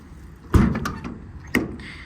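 Compartment doors on the body of a 2019 International MV106 truck shut with two solid, close thunks about a second apart, with quiet ambience between.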